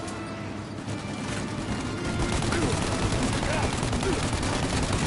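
Sustained gunfire rattles through a shootout in the Mafia game, a dense stream of shots and bursts building in loudness while voices call out over the din.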